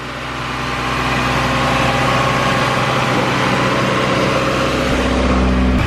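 Honda Integra DB1 with a converted B20 VTEC engine idling, a steady, even mechanical hum with a low throb, close and constant without any ticking, no talk.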